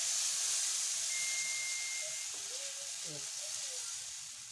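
Onion beetroot dosa batter sizzles on an oiled pan in a steady, fairly quiet hiss, with a brief spoken voice over it.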